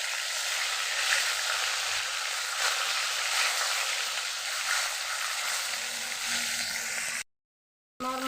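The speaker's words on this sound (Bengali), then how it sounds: "আমার মাছ ভাজা হয়ে গেছে," Fish frying in a pan gives off a soft, steady hiss and sizzle, fairly quiet and even, with a brief dropout near the end.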